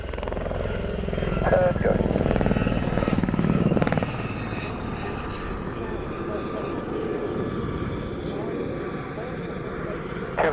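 A Gazelle helicopter flies a display at the Fly Navy airshow at Shuttleworth, its loud rotor and engine roar steady throughout, swelling near the start, while a commentator speaks over it.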